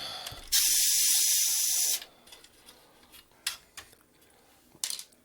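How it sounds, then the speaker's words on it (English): A Symetrix 528E audio processor is being opened, with a loud burst of hissing spray for about a second and a half followed by scattered small clicks and scrapes of screw removal on the unit. "So let's take out the screws."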